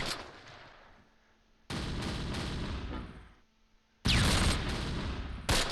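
Heavy bursts of rapid gunfire in the World War II video game Close Combat, in two long loud volleys separated by quieter stretches, with a sharp burst at the very end.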